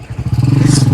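Royal Enfield Bullet motorcycle engine idling up close, a loud, steady low thump with a regular, rapid beat that begins a little uneven and then settles, with no talk.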